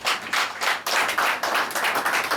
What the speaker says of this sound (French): Applaudissez le président